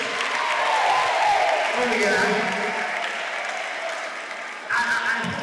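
Steady applause from a crowd fills the whole stretch, with a voice briefly calling out over the clapping near the end.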